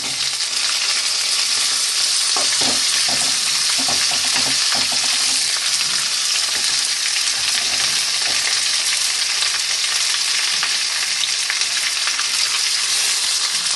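Ivy gourd fries in a hot pan with a constant loud sizzle, while a spoon stirs and scrapes in a cluster of strokes early on, and the frying continues steadily without talk.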